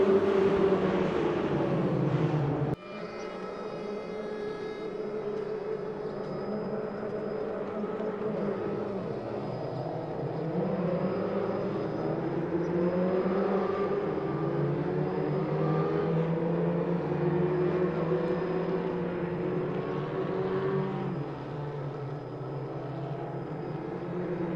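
Porsche 944 Cup race cars in Raceroom pulling away from a standing start at Zolder, a dense pack of engines revving and droning together, loud and continuous, with pitch rising and shifting as the cars accelerate toward the first corner.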